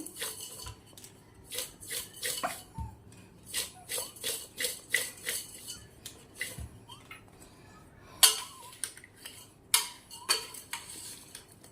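A utensil scrapes and clinks against a pot while mango pieces are mixed with pickle masala for mango pickle, in irregular close knocks and scrapes of moderate loudness with quiet gaps between them.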